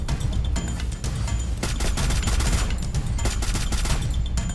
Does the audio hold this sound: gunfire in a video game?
yes